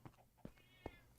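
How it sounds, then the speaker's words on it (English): A cat meows to be let in, three or four short, faint calls in quick succession, with no talk. "Kitty wants in."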